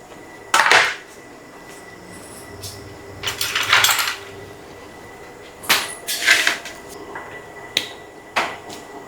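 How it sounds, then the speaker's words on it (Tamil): Wild mushrooms are chopped into small pieces on a board, heard as a handful of sharp, separate knife taps and short bursts of cutting spaced a second or two apart, close and fairly clear. "நீ இது எல்லாத்தையும் வந்து சின்ன சின்னதாக கட் பண்ணிக்கலாம்"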